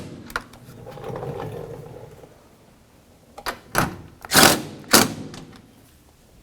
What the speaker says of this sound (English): Now we can snug up our 13mm headed bolts up along the top.